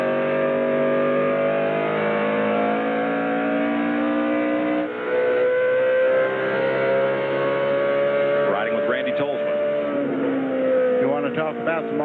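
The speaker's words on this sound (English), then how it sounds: "The Dodges turn a tremendous amount of RPM down the straightaway to get the power to run with Chevrolets and Fords" A Dodge race truck engine screams at high RPM down the straightaway at a 2000 Thatlook.com 200 truck race, a loud sustained whine with shifting pitch as other trucks pass in the pack.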